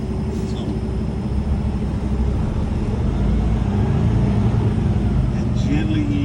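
A truck rolls forward at about 5 mph during a driving-school test, its low engine rumble and road noise droning steadily and loudly from close by throughout, with no pauses.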